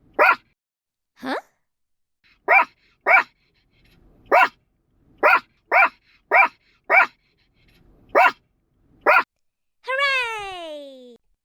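Puppy in an animated story barking repeatedly, about a dozen short, clear, close yaps in an uneven rhythm over silence, ending with a longer whining yelp.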